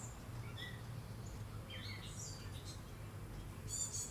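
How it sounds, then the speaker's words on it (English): Wild birds gathered at a backyard feeder stocked with suet seed cakes, with doves, cardinals, blue jays, wrens and finches around; faint, scattered chirps and short tweets sound from a distance over a steady low background hum, with no voices. "We've got all kinds of birds here."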